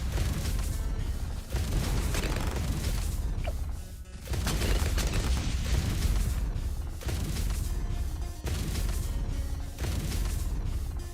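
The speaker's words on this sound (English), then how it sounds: "that turret explosion is actually kind of loud" Turret explosions in Bloons TD 6 boom over and over in a dense, loud, continuous game mix of mechanical clatter and thumps, with brief dips near the 1.5-second and 4-second marks.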